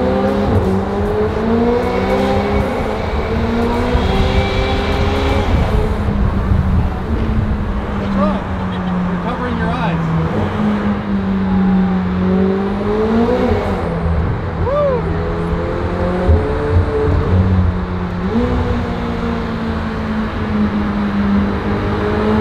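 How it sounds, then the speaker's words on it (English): A McLaren 720S engine revs loudly in a tunnel, its pitch rising and dropping with repeated paddle shifts through the gears, under a constant roar and occasional talk inside the car. "This is where the McLaren shifting with one paddle comes in really handy."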